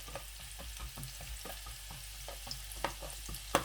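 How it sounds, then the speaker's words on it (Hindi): Onions sizzle in a pan while being cooked down for beef liver, a quiet steady crackle broken by regular stirring scrapes, with no voices. "खूब पकाना है प्याज को, यहाँ तक कि प्याज रेड हो जाए,"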